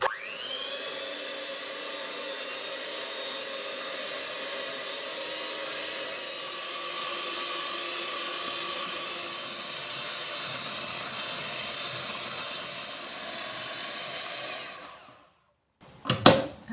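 Eggs being beaten with sugar, salt and vanilla for a cocoa cake, a steady loud electric mixer whir running continuously and close, then cutting off near the end with a few clunks, no talking.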